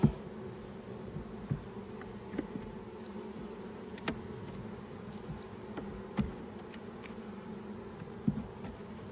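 Honey bees hum steadily at a once-strong hive during the first spring inspection, a soft, continuous buzz with faint scattered clicks and taps from handling, and no talking.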